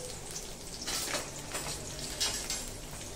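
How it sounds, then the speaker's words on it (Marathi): Green chilies sautéing in a spoonful of oil for Khandeshi-style vangyache bharit, a soft, steady sizzle and crackle with faint pops, close and quiet, no voices. "ह्या ज्या मिरच्या आहेत ना या छान तेलामध्ये, अगदी चमचाभर तेलामध्ये छान मस्तपैकी परतवून घ्यायच्या आहेत"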